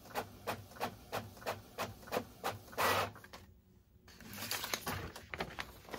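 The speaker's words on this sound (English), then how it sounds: "I want to get a sublimation paper and I want to do a print real quick to see how it looks" Epson EcoTank 15000 printer converted for sublimation printing on sublimation paper, a steady run of close rhythmic mechanical pulses from the print head passes, a brief louder whir, a short gap, then softer continued motor noise.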